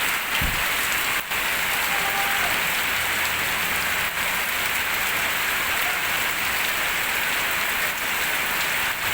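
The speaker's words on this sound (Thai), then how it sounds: "โอ้ยตกแห้งคักแล้วฝนนี่" Heavy rain pours steadily in an open rural setting, a dense, constant hiss of drops drumming on surfaces that stays loud and unbroken from start to finish with no voices.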